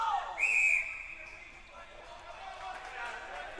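A referee's whistle gives one short, sharp blast at a junior lacrosse game between Sackville Sportwheels Wolves and Saint John Rapids, over arena crowd noise and a commentator's voice.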